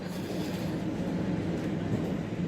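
A Toronto subway train runs with a steady, loud, low rumble and constant rolling noise throughout, with no pauses and no voices.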